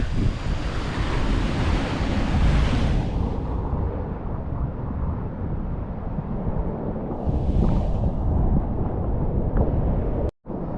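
Loud, continuous roar of rough sea waves breaking nearby on the coast at Turnalı, Muğla, with heavy wind buffeting the microphone throughout.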